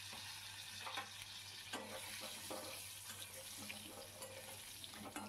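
Potatoes sizzle and fry in a pan with ridge gourd and prawns as they are stirred, a steady quiet hiss broken by occasional scraping stirs.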